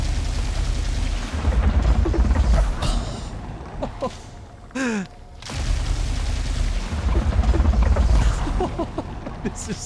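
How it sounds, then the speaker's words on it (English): Deep muffled booms and rumbling blasts of underwater explosions in the video game Returnal roll through a watery, bubbling din, with a brief rising whoosh and sweeping tones in the middle. "Holy shit, the explosions underwater."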